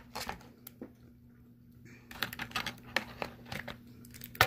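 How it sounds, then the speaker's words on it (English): Plastic packaging on a small toy is crinkled and torn in quick, close, uneven bursts of rustling with sharp crackles, with a quiet pause in the middle. "I'm just gonna tear it off"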